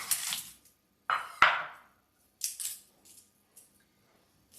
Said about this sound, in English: We're gonna start off by cutting our yellow onion.